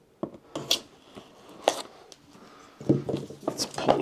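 A blade slices into the cardboard packaging of a boxed monitor hub with a 5-inch screen, making a few close scratchy cuts and rustles with short pauses between strokes.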